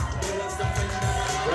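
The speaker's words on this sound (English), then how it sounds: "Let's give a big round of applause for our Miss Bikini Rookie Class 2." Crowd noise from a bikini fitness competition audience, a steady wash of cheering with a few whoops rising over it, fairly loud and continuous through the short stretch.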